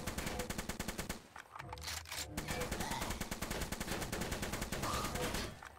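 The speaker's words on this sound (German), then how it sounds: "Ja, so easy ist es mit dem Maschinengewehr" Rapid machine gun fire in the VR Zombie Training Simulator game, a long loud stream of evenly spaced shots with a brief break midway, close and dominant.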